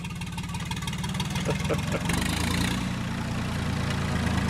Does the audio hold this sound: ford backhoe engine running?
yes